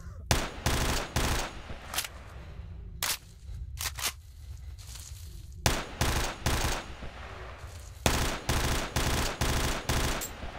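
Bursts of automatic gunfire in the game STALKER Shadow of Chornobyl, loud close rapid shots in repeated volleys separated by short pauses of quieter background.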